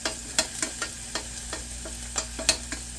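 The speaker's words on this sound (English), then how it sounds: "Give it a little stir" Shrimp frying in a pan with a steady soft sizzle, punctuated by a series of sharp clicks and scrapes from a utensil stirring at irregular intervals, close and moderately quiet with no talking.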